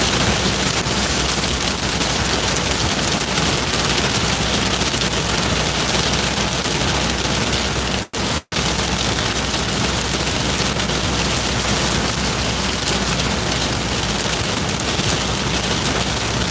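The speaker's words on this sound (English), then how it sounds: "There is currently hail hitting the car." Dense, steady rattling patter of hail drumming on a car body, continuous and loud, with a brief dropout partway through.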